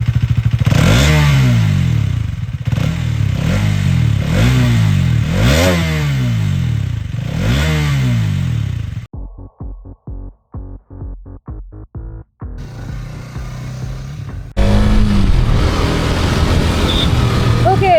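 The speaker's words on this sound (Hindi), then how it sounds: "इसकी नई 250cc लिक्विड कूल्ड इंजन के एग्जॉस्ट नोट" A Hero Xtreme 250R motorcycle with a new 250cc liquid-cooled engine revs repeatedly up and down in loud, close blips, then several rapid choppy bursts follow, ending in a steady rumble.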